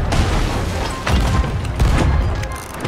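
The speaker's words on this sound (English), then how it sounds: "Firing the cannons!" Ship cannons firing during a Sea of Thieves naval battle, several heavy booming blasts in quick succession, loud and close, over rumbling low-end noise.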